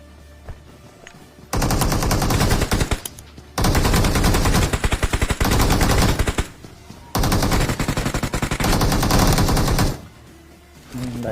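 Rapid automatic gunfire from a battle royale video game rattles out in long, loud sustained bursts, separated by brief pauses.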